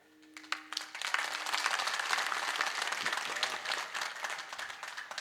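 The audience at a comic kirtan breaks into loud, sustained applause, many hands clapping together in a dense wash for several seconds, with a little speech before the clapping starts.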